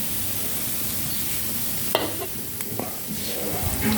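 Sun-dried fish fries in hot oil, a continuous close crackling sizzle with a few sharper spits and stirring clatters toward the end, no voices.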